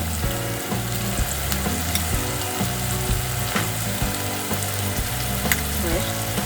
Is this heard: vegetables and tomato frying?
yes